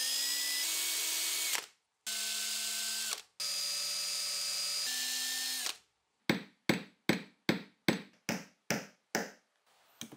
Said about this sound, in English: I like to actually go through and drill a hole, put in a metal post inside of it